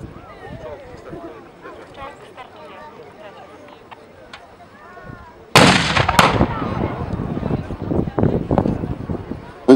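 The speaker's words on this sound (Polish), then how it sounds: "Wystrzał z Pantery." A Panther tank's gun fires a single loud, booming shot partway through, cutting sharply through a narrator's voice at an outdoor historical battle reenactment; the rumble lingers afterward as the commentary continues.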